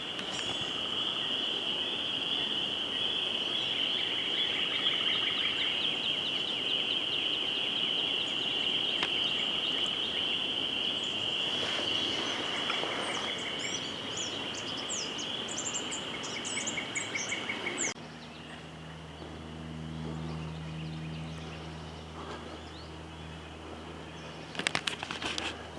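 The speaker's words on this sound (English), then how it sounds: "it's very quiet, except for the birds, the frogs, just the wilderness noises." Quiet wilderness along the C&O Canal, with a steady high trill of insects or frogs and scattered bird chirps at a distance. The sound turns muffled and low near the end, and a few brief handling noises follow.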